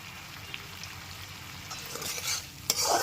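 A spoon stirs salt into a simmering butter garlic chicken gravy in a pan, a soft sizzle under quiet scraping strokes that grow louder near the end, with no talking.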